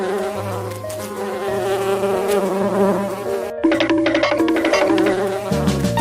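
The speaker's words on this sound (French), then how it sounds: "Les abeilles en colère poursuivent Bonbon." Angry cartoon bees buzzing in a loud, steady insect drone under a bouncy musical backing, with the swarm chasing a cartoon monkey across the whole stretch.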